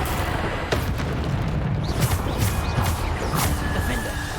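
Magical Bombarda blasts in Hogwarts Legacy, a run of sharp booming bursts and crackling impacts amid hectic spell-combat effects, loud and close, with a voice speaking briefly among them.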